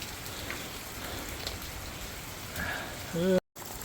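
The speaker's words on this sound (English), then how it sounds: "The rain's working good." Steady rain patters and hisses continuously during an Oklahoma storm, close and fairly loud, and a brief voice rises near the end before a short cut-out.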